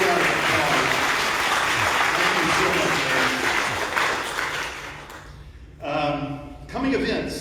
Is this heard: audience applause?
yes